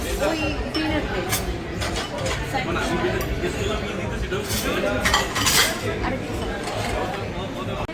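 Cutlery clinks and scrapes on a dinner plate of rice, dal, fried potato and salad. The light metallic chinks repeat steadily and sit close, under constant talk and background chatter.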